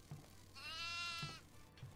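A goat bleats once in a video game, a clear, fairly faint wavering call standing alone against a low steady background hum, with a few soft thumps around it.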